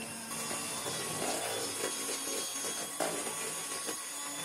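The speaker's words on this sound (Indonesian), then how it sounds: "Mixer bahan-bahan ini diawali dengan kecepatan rendah, kemudian kita naikkan ke kecepatan paling tinggi." An electric mixer beats margarine, butter and sugar for a marble cake, a continuous close whirring drone with faint scraping and slight wobbles in tone, with no voices over it.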